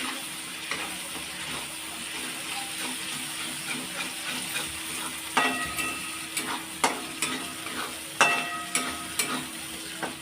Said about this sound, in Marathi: कांदा आपला परतलेला आहे, तो जास्त टाइम नाही परतला तरी चालेल।